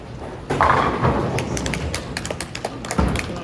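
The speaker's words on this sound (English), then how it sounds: "finally the first strike of the game for Franklin" A bowling ball crashing into the pins for a strike during a bowling final, a sudden clattering burst of pin impacts followed by scattered tumbling knocks and a late thump, heard at moderate distance.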